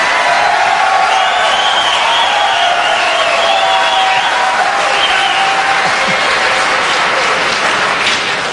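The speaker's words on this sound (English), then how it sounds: "I never thought heroin would get applause here in South Carolina." A South Carolina presidential debate audience applauds loudly and steadily, a dense sustained wash of clapping with scattered cheers and whoops for several seconds.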